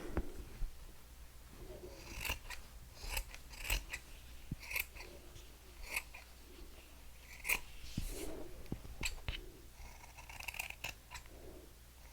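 Scissors snip repeatedly through fabric, cutting an oval piece for a doll's jacket; a dozen or so crisp, close cuts come at an irregular rhythm, with no talking.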